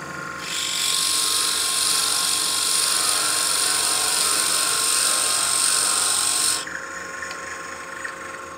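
A drill bores about 1.25 inches into the wooden body of a birdhouse ornament, giving a steady high whine that holds for roughly six seconds, then cuts off and leaves a quiet hum behind.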